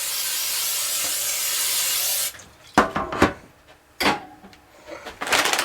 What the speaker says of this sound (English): We're going to spray a 9x13 pan with some vegetable spray.